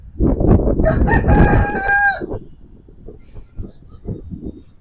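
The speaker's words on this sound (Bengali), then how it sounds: "আমাদের মোরগটা মনে ডাকবে" A rooster crows loudly and nearby, one long cock-a-doodle-doo rising and then trailing off, over a busy background of murmuring voices and household noise.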